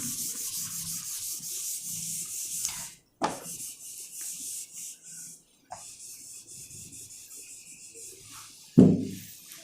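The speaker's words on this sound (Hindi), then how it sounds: "देखिए आप पूरा बोर्ड को रब कर लेता हूँ।" Eraser rubbing a classroom blackboard clean, a close dry scrubbing in long sustained strokes broken by short gaps and a few knocks of the duster against the board.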